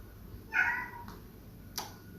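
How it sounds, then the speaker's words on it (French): A domestic cat meows once indoors, wanting to be let outside: a moderately loud, drawn-out call followed by a short, fainter chirp against a quiet room hum. "il y a Monsieur le chat qui veut sortir"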